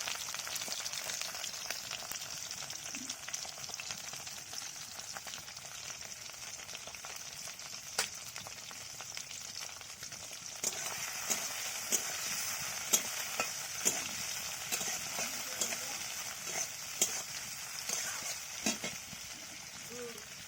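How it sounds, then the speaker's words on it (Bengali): Prawns coated in turmeric and salt fry in a pan with a steady, close sizzle, while a utensil stirs them with intermittent scraping clicks over the last half; no one speaks. "এগুলোকে ভেজে দিচ্ছি চিংড়ি মাছগুলোকে"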